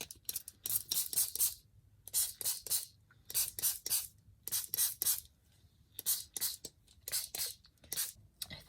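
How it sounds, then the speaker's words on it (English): A spray bottle hisses water onto inked flower artwork in repeated bursts, quick clusters of two or three sharp sprays separated by brief pauses, close to the microphone. "I will get my water and start spraying these down"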